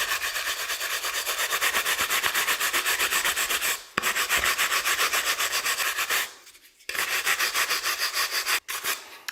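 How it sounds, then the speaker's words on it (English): A drill-mounted polishing brush buffs wax on a turned wooden bowl, giving a steady, close whirring rub with a regular pulsing texture. Two brief pauses break the brushing before it resumes. "So start buffing up like this."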